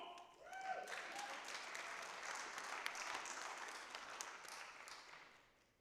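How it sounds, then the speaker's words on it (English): Audience applause at a city council meeting, a fairly faint steady wash of clapping hands lasting several seconds before fading out, with a brief voice at the start. "You clap louder there, come on."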